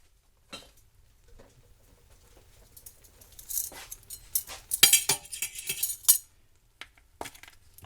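Light clinks and soft patter as chili powder is spooned into a pot of home-canned Texas red chili, with irregular taps of a spoon against a container growing busier midway, and no talking.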